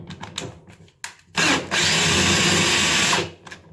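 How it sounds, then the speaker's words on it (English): An electric drill whirs steadily for about two seconds in the middle, driving a screw while a leaking tap spindle is being fixed, with short mechanical taps and knocks before and after the run. "With mine, I just use a drill."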